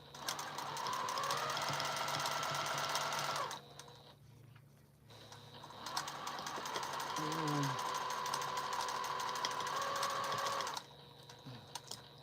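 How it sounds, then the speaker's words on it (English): A sewing machine basting stitches around the edge of a quilt, running in long steady whirring bursts with a pause between them, close and fairly loud. "I'm just taking my time and going basting all the way around it so I can remove these pins."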